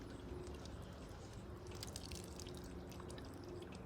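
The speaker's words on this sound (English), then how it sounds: "Let that drip off a little bit." Water drips and trickles steadily off a hand-wrung piece of laundry, a continuous close patter of droplets with no pauses.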